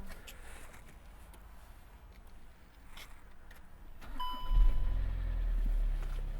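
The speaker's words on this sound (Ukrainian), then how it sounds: "Машина завелася гарно, акумулятор е, крутить досить бадьоро" A 2018 Volkswagen Passat B8 starts from cold. A quiet stretch gives way to a short chime, then the engine cranks and catches into a steady low idle rumble for the last couple of seconds.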